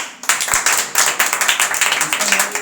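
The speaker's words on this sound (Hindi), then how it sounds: "अपने लिए जोरदार तालियां बजाओ" Loud, brisk clapping from a congregation at a Christian sermon, starting abruptly after a brief pause and continuing as a dense, rhythmic burst with some audible individual claps, close and energetic.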